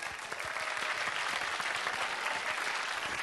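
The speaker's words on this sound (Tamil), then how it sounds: "பயங்கர கைத்தட்டல், கம் ஆன்" Studio audience applause during a Tamil television debate show, a sustained, even roar of many hands clapping at moderate distance with no talk over it.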